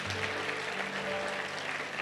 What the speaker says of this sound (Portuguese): E dê um aplauso a Ele, aleluia.